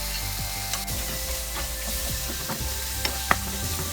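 Chopped tomato and broken cashew nuts fry in a pan for a paneer dish, a steady close sizzle with scattered clicks and scrapes of stirring, no voices.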